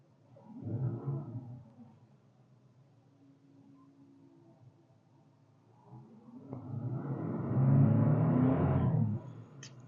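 The 5.6-litre V8 of a Nissan Infiniti QX80 fires up with a brief roar and settles to a low idle, then is revved hard in one loud, sustained burst before dropping away, heard close with no talking.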